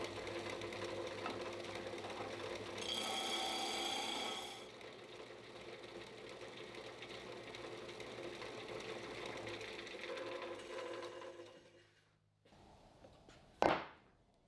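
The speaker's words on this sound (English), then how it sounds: "The base of the vise was a little rusty, so I decided to grind the surface a little bit and add some grease." A rusty steel vise base is ground down by a power grinder, a steady, loud, harsh drone that runs for about twelve seconds, then cuts out and is followed by a short sharp clank.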